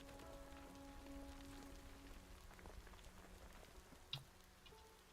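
Steady rain falling outside, a soft continuous patter on surfaces with a faint tick near the end, heard from indoors at low level with no talking.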